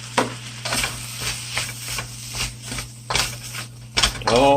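Leftover cooked rice stirred in a stir fry pan, a close scraping and rustling with a soft sizzle, in uneven strokes and ending in a louder clatter, no talking.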